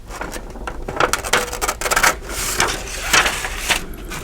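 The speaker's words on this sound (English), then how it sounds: "I like the long scissors better for stuff like this." Crisp, papery crunching and snipping from a pair of long scissors cutting through stiff Tyvek, with irregular cuts close by and no talking.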